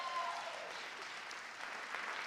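An awards ceremony audience gives a round of applause for a high school ballroom dance team, a soft, even wash of clapping heard from a distance throughout.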